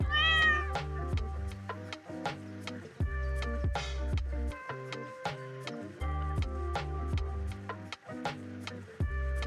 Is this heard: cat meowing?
yes